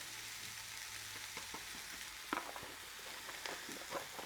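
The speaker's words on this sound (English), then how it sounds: "So I'll just saute that for a bit, and I will also add some smoked paprika." Tomato puree and smoked paprika sautéing in a pan, a faint steady sizzle with occasional soft stirring scrapes and taps near the middle and end, heard alone without talk.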